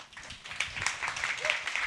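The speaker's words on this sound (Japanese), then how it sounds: "皆さん拍手でお願いします。" An audience at a live Japanese exercise-routine presentation claps together in a short burst of close, scattered applause, with a voice faintly underneath.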